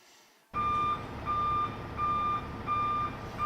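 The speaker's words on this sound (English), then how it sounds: "I hear the trucks rolling in." Trucks reversing with a steady, repeating backup beeper sounding over loud, continuous engine rumble, close by and with no talk.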